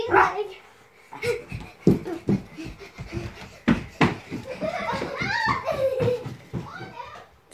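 A family dog yaps in short, lively bursts while playing, scattered among children's chatter and laughter at home.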